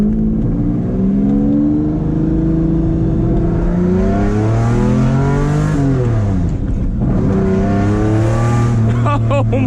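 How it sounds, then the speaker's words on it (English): A 2000 Lamborghini Diablo GT's engine revs and accelerates hard, its loud, close roar climbing and dropping through gear changes, with a voice briefly audible. "I'm gonna end this video with pure Diablo GT sounds"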